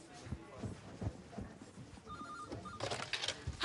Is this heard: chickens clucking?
no